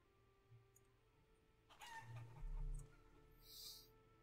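Chickens in a forest village in the video game Life is Feudal let out a brief burst of clucking and squawking near the middle, quiet against a soft ambient background, with a faint higher call near the end.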